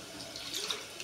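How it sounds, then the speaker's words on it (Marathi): Tap water briefly runs while a metal spice pot is rinsed in a home kitchen sink during the making of soybean bhaji: a close, steady, soft splash lasting about a second. "ते मसाल्याचं भांडं आपण जरा धुवून घेऊ"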